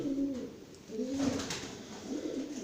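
Pigeons, sick birds kept indoors, coo in soft repeated rolling phrases close by, several calls in a row with no talk.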